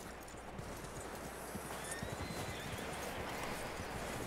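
Horse hooves clip-clop steadily in Red Dead Redemption 2, joined by a whinny, over a constant outdoor game ambience at moderate loudness with no talking.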